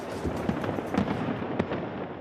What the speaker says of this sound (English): a fireworks extravaganza over the crowds gathered at the Champs-Élysées